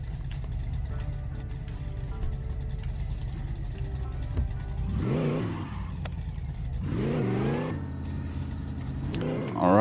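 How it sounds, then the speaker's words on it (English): A Chevrolet Chevelle in the video game My Garage drives with a steady low engine drone, then revs rise and fall through several gear changes, with faint talk underneath. "We are going to take our Chevelle for a little bit of a drive"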